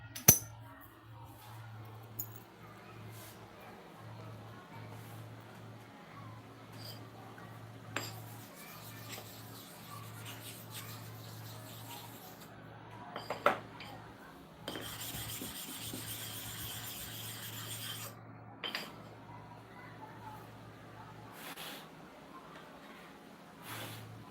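Hair clipper blades being sharpened, with soft gritty rubbing and rasping strokes that come in bursts, a low steady motor hum beneath, and a few sharp metallic clicks, all fairly quiet.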